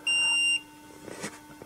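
A single high electronic beep, about half a second long and loud, comes from a DOVOH 360 cross line laser as it tilts out of level, followed by faint handling noise.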